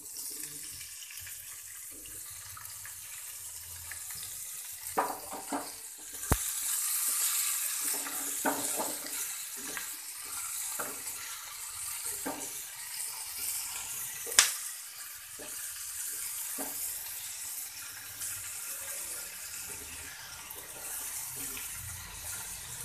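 Spring onion stalks fry in a pan for chutney, giving a steady, soft sizzling hiss that runs throughout, broken by occasional light clicks and clatters, with no talking.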